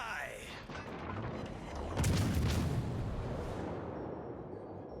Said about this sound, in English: Keep shooting Colorado here and see if we can nab the kill on this one as well.